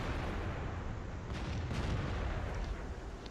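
A tier 8 M46 Patton KR medium tank fires its cannon in a tank video game, with heavy booms merging into a constant loud rumble of battle and brief sharper blasts partway through.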